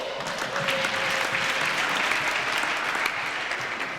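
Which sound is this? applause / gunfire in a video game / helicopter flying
applause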